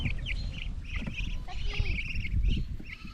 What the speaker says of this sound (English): There's my duckies.